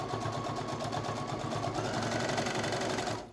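A sewing machine stitches a fabric placemat in one continuous, fast mechanical whir with a rapid even needle rhythm, close by, stopping abruptly at the very end.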